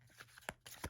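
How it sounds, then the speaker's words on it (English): A standard-size tarot deck is shuffled hand over hand, giving a quick run of close, crisp card slaps and riffling flicks in under a second. "Of course, they hand over hand shuffle great."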